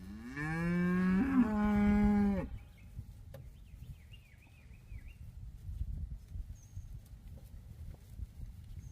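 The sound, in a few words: cattle mooing on a farm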